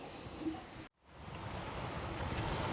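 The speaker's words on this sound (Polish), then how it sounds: "jeszcze będziemy kontemplować przez chwilę polskie morze" Waves of the Baltic Sea wash along the Polish coast in a steady broadband surf roar mixed with wind noise, briefly cut out near the one-second mark before the rushing resumes, with no voices.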